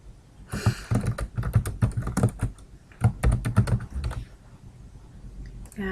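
Typing on a computer keyboard to build a family history website, with backspace presses mixed in. The key clatter comes in rapid, uneven bursts with brief pauses, close and clear, and no voices.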